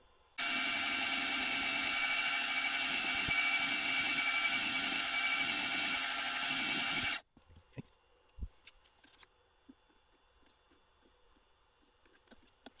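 A small drill with a 2.1 mm bit, making a hole for an M2.5 screw, whirs steadily and loudly for about seven seconds, then stops, leaving faint clicks and light handling noises.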